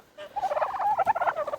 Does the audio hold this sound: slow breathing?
no